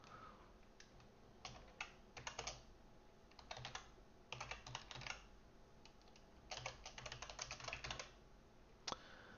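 Code being typed on a computer keyboard comes in quick bursts of soft, close key clicks separated by short pauses, quiet and alone with no talking.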